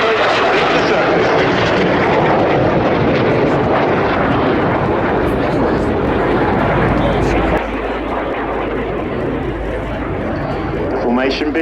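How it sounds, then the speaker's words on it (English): Red Arrows jets roar overhead in a loud, sustained rush during a final nose-to-nose formation pass at the RAF Cosford air show, the engine noise swelling broadly and then easing slightly as the aircraft pull away. "As the jets come round for their final nose-to-nose pass"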